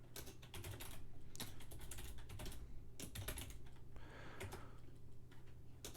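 Rapid clattering keystrokes on a computer keyboard during programming, loud and close, coming in dense bursts separated by brief pauses.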